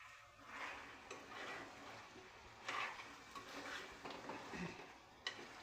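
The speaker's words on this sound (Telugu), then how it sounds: "ఒకసారి కలిపేసుకుందాం." A utensil stirs tomatoes into a curry pan, making soft, faint scraping and rustling sounds over a low sizzle.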